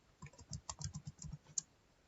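Quick bursts of typing on a computer keyboard, soft clustered key clicks close by with one sharper keystroke near the end, no voices present.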